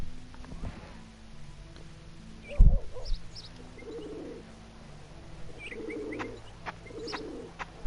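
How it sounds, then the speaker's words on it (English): Pigeons coo in the video game Shenmue, with soft repeated low cooing calls over a quiet ambient bed, a brief flutter-like thump near the middle and a few higher chirps, fairly faint and with no voices. "Pigeons."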